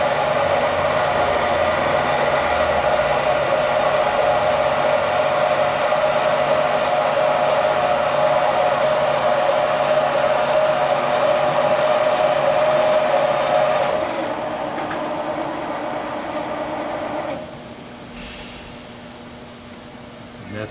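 Barnes SP-1000R4 single-pass honing and bore finishing machine running, giving a loud steady mechanical whine and hum that drops in level twice near the end, with no talking.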